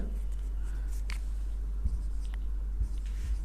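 Handwriting with a pen on paper during an accounting lesson: faint, close scratchy strokes in short bursts over a constant low electrical hum, with a few soft taps and no speech.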